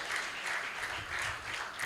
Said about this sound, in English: Please sustain the applause as they come up.